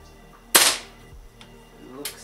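A single sharp crack of a pellet gun fired at a target, close and brief, followed by a softer click and faint movement afterward.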